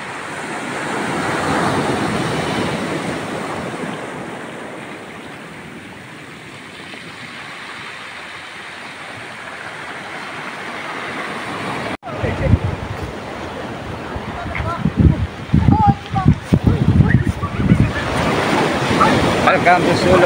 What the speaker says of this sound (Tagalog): Ganyan ho talaga kalakas ang alon kapag dito ka napunta sa Pacific Ocean.